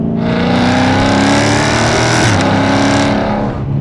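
A 2016 Dodge Challenger Scat Pack engine roars loud and close, revving hard and climbing in pitch with quick breaks where gears shift, then pulling again without pause.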